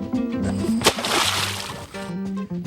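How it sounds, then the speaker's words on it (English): Snapping turtles released into a creek hit the water with a single sharp splash, followed by brief sloshing over steady background music. "We turned the turtles loose in the creek, where they immediately started to fight."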